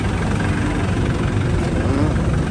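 An Iseki TR63 tractor engine runs steadily nearby, a loud, dense low rumble that fills the whole stretch while someone talks over it.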